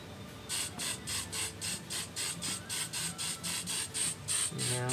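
An aerosol can sprays in a series of short, regular hissing bursts, about a dozen quick puffs in a row, close and fairly loud.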